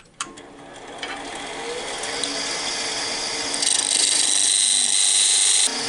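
A wood lathe spinning an off-centre blank for a penguin Christmas ornament, a whirring mechanical drone that rises and steadies, with an abrupt knock at the start and a brighter cutting hiss joining partway through, no voices.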